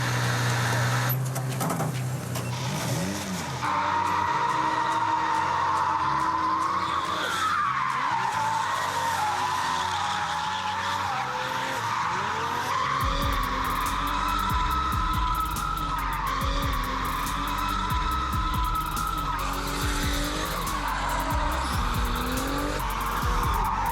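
A car drifting fast on a track in Riga, tires squealing loudly and continuously over a revving engine, the screech bending and sliding in pitch with heavy low rumble.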